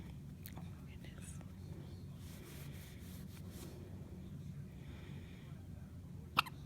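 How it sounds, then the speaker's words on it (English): A baby hiccups a few times, giving faint, sharp little catches spread apart, the loudest near the end, under soft whispering and quiet room noise. "You have hiccups."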